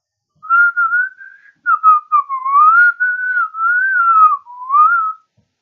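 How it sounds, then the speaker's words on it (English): A person whistling a wandering tune, clear and close, in several phrases with short pauses and gliding pitch, alone with no other sounds. "Can you whistle?"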